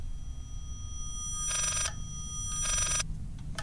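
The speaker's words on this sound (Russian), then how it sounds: "И тут зазвонил телефон." A telephone in the horror video game Layers of Fear rings two short bursts about a second apart inside a quiet mansion, loud and close over a low ambient hum.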